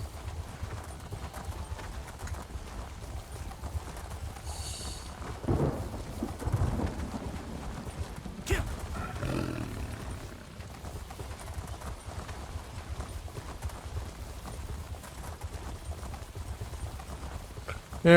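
Mount hooves gallop in a steady clip-clop rhythm in the Elder Scrolls Online video game, with low rumbling swells and a rain-like wash underneath throughout, no talking.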